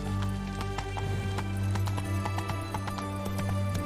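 Roach, a horse in The Witcher 3, galloping with rapid, rhythmic hoof clops over a steady in-game musical drone, moderately quiet and continuous without talk.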